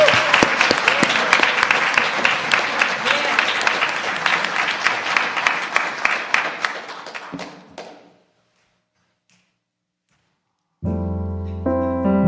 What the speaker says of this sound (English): if we can all welcome her with a round of applause